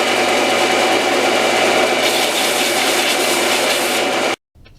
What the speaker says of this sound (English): Now, the belt sander helps.